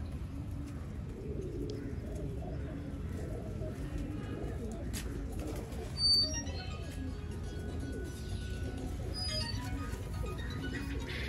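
Low, rolling coos from several Mian Nazir bloodline pigeons carry on steadily close by, with occasional small chirps and a brief bump of noise partway through.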